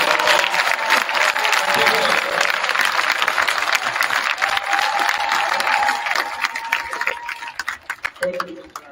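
A gym crowd gives a round of applause for a coach, with loud, dense clapping for several seconds that thins to scattered claps near the end, while voices call out over it.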